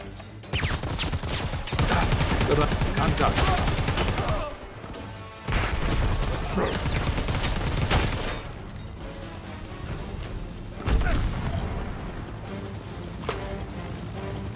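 Gunfire and a thrown grenade in the Predator: Hunting Grounds video game, dense bursts of shooting and crashing impacts throughout, with loud blasts near the start and middle.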